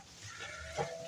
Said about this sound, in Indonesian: Kambing-kambing desa, senajan kambing desa ning rezekine kutha